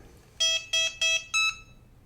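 A Lian Sheng LS-112 quadcopter gives four short, bright electronic beeps in a steady rhythm while it powers on and pairs with its remote, the last tone pitched differently, close and clear over a quiet background.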